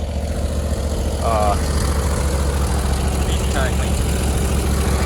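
A stump grinder's engine idles steadily nearby, a constant low rumble that runs unbroken throughout, with a faint squeak or two and no speech.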